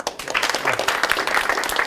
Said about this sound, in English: But yeah, give yourself a round of applause.